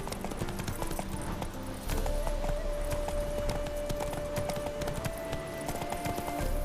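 The horse Roach gallops in The Witcher 3 video game, a fast, steady clip-clop of hooves with game sound beneath it and a tone holding steady through the middle.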